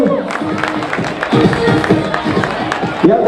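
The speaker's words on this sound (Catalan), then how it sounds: "Un aplaudiment pel tercer premi" A crowd at a carnival ball claps and cheers for a children's prize winner, a dense, lively patter of applause with whoops mixed in, close and sustained under an excited announcer's voice.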